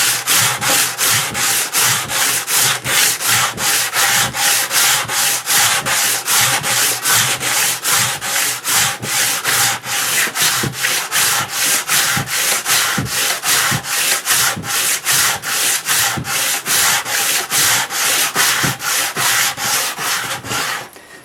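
Sandpaper is worked by hand over hardened body filler in steady, fast back-and-forth strokes, producing a loud, close, rhythmic rasping that continues without pause.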